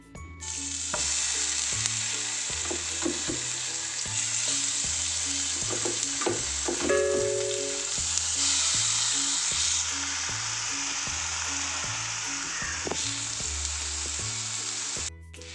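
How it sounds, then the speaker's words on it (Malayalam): Pineapple slices frying in ghee in a hot pan, giving a loud, continuous close sizzle with crackling throughout, over a steady background hum. "നെയ്യിൽ കിടക്കുന്നതുകൊണ്ടാണ് നല്ല നെയ്യിൽ കിടന്ന് മുരിയുന്നുണ്ട്"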